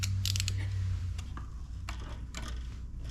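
A ratchet clicks in short bursts while working on the water pump of a John Deere 355, with a few scattered metallic ticks and clinks, close and fairly quiet.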